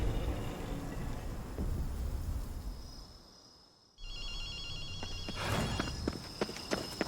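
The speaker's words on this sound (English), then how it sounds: "Akito, you hear a phone ringing?" A telephone rings in the video game Ghostwire: Tokyo, its electronic trilling ring cutting in after a brief hush and repeating over ambient game sounds and footsteps.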